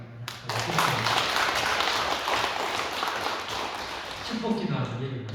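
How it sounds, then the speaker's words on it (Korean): A church congregation claps together in steady, dense applause to welcome a visitor during Sunday worship. The clapping carries on for several seconds, then a voice speaks as it fades out. "다시 한번 환영의 박수"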